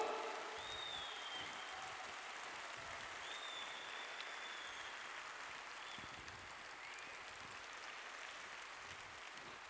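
An audience claps steadily in a large hall during a live show, continuous applause held at an even level for the whole stretch with no talk over it.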